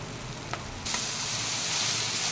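Kashmiri chilli, red chilli, cumin and coriander powders frying in a pan for tadka, a soft hiss that jumps abruptly to a louder, brighter sizzle partway through and holds steady.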